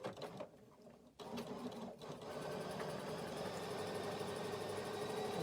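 Sewing machine with a leather needle fitted and stitch length set to 190, starting with a few uneven bursts, then running in a steady, fast, whirring mechanical stitch rhythm, close and moderately loud with no talk.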